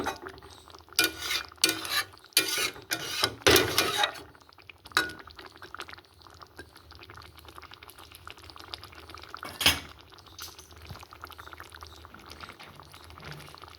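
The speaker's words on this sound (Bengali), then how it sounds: "এটা একটু ফুটে যাবে, আর একটু রেডি হয়ে গেল বন্ধুরা সর্ষে চিকেন।" A pot of mustard chicken curry bubbles on the stove while a utensil stirs and clinks against the pot, with several loud scraping bursts early on over a soft, steady simmer.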